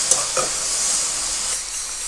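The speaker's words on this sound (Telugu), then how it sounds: "ఇప్పుడు కట్ చేసుకున్న ఉల్లిపాయలు, పచ్చిమిర్చి, కరివేపాకు వేసేసుకొని ఇవి ఒక 2 మినిట్స్ ఫ్రై చేసుకోవాలా" Chopped onions, green chilies and curry leaves frying in hot oil, a steady bright sizzle with a few soft stirring scrapes near the start, close and fairly loud with no voices.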